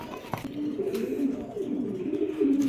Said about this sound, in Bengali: এখানে আছে রেড শেকার পাইট কবুতর